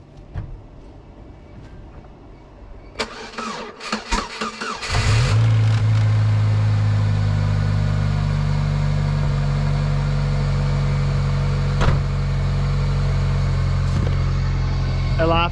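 A car engine cranks, catches and fires after a few seconds, then settles into a steady, loud running idle close by, with a few light clicks and knocks over it.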